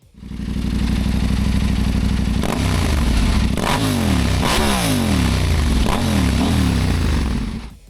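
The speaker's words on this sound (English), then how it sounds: "So that's the engine's sound and feel on the road." A KTM 890 Adventure R motorcycle engine drones loudly and steadily on the road, then rises and falls in pitch as it revs through gear changes, with wind rushing past.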